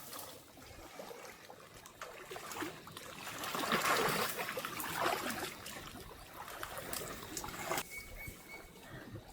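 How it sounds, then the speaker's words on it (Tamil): Monkeys bathing in a pond, water splashing and trickling with a busier burst of sloshing in the middle, heard close by over steady outdoor ambience. "குரங்குகள்லாம் அந்த இடத்துல குளிச்சு கொண்டிருக்குது."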